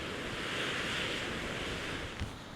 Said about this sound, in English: the waterfall down here is just absolutely spectacular